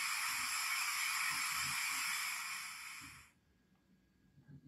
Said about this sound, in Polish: Następnie mamy dźwięk wydmuchu pary pod funkcją F9.